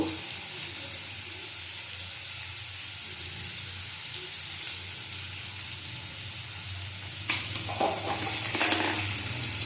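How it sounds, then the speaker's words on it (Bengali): Potato pieces fry in hot oil for a prawn curry, giving an even, close crackling sizzle. A few louder stirring scrapes and clatters come near the end, and no one speaks. "আলু দিয়ে দিলাম, আলুগুলি আমি ভেজে তুলে নেব।"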